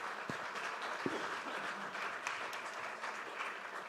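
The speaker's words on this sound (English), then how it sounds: "A warm round of applause for our panelists." An audience at a maritime security panel applauds the panelists, a steady, fairly faint wash of clapping across the hall with no voices.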